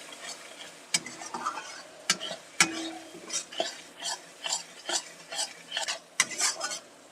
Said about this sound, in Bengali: লঙ্কা গুঁড়োটাও দিয়ে দিচ্ছি। এই মশলাটা একটু কষিয়ে নেব।